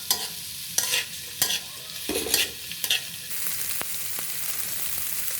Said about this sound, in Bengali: শুটকি আর পেঁয়াজ একসাথে ভাজবো